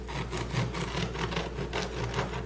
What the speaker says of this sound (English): remove them to a cutting board and one at a time cut them on a slight angle